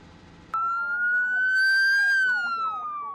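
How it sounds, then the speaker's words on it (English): Police sirens start abruptly and wail in a long rising, then slowly falling tone, with overlapping speech-like warbles underneath. "ross the country honored Officer Greg Benner with lights and sirens."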